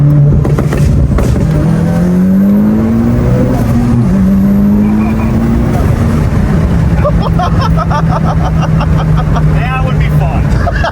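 A tuned turbocharged Mitsubishi Evo accelerates hard at full throttle in second gear, a loud close engine note rising through high RPM, with voices talking over it.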